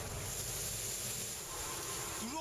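A racing sailboat sails fast downwind through ocean waves, with a constant wash of water and wind roaring across the microphone throughout.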